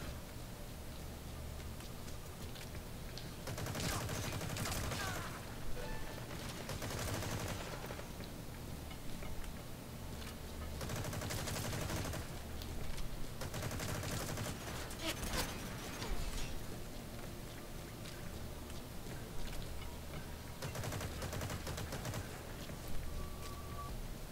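Gunfire in the stealth game Metal Gear Solid V: The Phantom Pain, with repeated bursts of shots several seconds apart over a constant noisy background, fairly close and loud, no voices.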